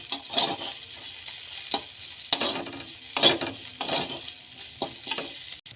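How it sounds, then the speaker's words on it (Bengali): Neem leaves fry in a pan with a soft ongoing sizzle, broken by repeated sharp scraping strokes of a spatula stirring them, close and clear with no talking. "নিম পাতা ভাজা হয়ে গেছে, এটাকে তুলে নেবো।"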